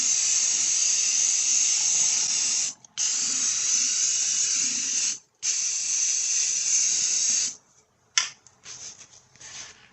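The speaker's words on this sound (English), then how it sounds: "I need to drill a hole for the wire harness there." A power drill bores a hole in the very rusted frame of a 2004 Ford F-150. It makes a close, high whine in three long bursts, then a few short stop-start bursts with a clank between them.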